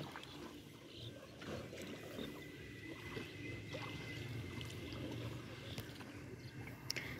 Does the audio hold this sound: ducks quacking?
no